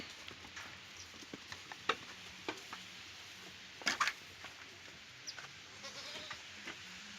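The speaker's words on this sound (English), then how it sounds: "This is pure Barbados Black Belly sheep." Barbados Black Belly sheep bleating intermittently at a moderate distance, with soft shuffling and hoof patter around a quiet barnyard.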